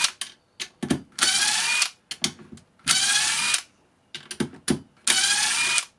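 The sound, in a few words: DeWalt 18V impact driver driving screws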